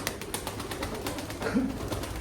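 Champion pigeons being readied for a bird market give a soft, faint coo near the middle, over a steady low background hiss.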